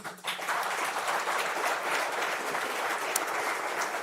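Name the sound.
audience applause for the graduates' parents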